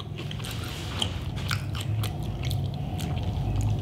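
Close-up chewing of a Burger King Impossible Burger, with crunchy bites and moist mastication repeating steadily and loudly.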